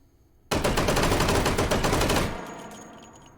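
A fully automatic 1911 pistol chambered in .45 ACP, fired in H3VR, lets off one loud, rapid burst of about two seconds. The shots blur into a dense rattle, then fade into a short echoing tail.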